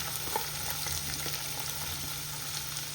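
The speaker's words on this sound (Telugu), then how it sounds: "ఇప్పుడు ఆయిల్ హీట్ అయిపోయింది. ఉల్లిపాయలు వేసేసుకుందాం." Onions are added to 4 to 5 spoons of hot oil in a pan for mutton kheema and fry with a steady, close sizzle, with faint stirring scrapes over it.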